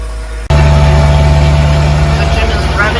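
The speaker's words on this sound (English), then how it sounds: "So Jim is revving the engine to see if this black needle is going to move." A boat's engine revving hard after a quiet start, a loud, steady, low rumble with a droning hum that holds for a few seconds, close by and alone.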